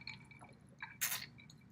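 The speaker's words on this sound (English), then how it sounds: "She spits out her water." A small LOL Surprise toy doll spits out water in a few short wet squirts and drips, ending in a brief splashy spurt, close and fairly quiet.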